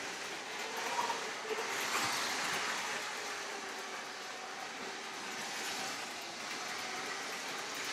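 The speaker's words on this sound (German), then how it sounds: "Ein wunderbarer Zug. Wie er hier durch Wild City fährt." A Lego City 9V toy train runs along its track with a steady, soft rolling rumble and faint clicking, a continuous mid-distance sound with no voices.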